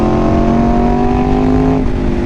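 A 1000cc motorcycle engine holds a loud, steady high-rpm howl close by, its tone rising slightly before a brief dip near the end.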